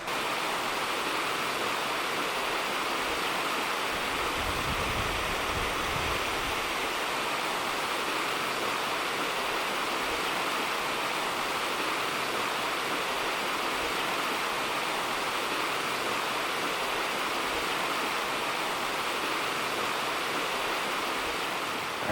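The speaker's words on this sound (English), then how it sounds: "you're greeted with Lace Waterfall." Lace Waterfall at Natural Bridge State Park, Virginia, falls into a creek with a steady, broad rushing hiss that holds constant and fairly loud throughout, with no voices.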